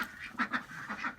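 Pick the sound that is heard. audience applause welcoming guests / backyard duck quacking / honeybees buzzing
backyard duck quacking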